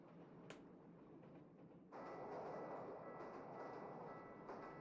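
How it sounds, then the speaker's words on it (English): A train rolls past in the anime Baki the Grappler as a steady low rumble that suddenly swells louder partway through and then holds, with a faint click near the start. "That's the train."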